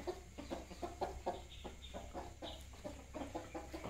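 A hen clucks repeatedly in short, close bursts while scratching and playing in mud, the soft rhythmic calls continuing alone over a low background hum.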